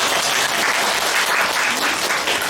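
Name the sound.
audience applause at book signing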